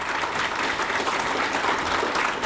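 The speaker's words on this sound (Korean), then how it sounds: "수상자 격려 박수 부탁드립니다." A graduate school entrance ceremony audience gives steady, dense applause for award recipients, a continuous even wash of clapping from many hands with no voices over it.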